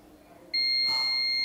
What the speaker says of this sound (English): so here we are getting beep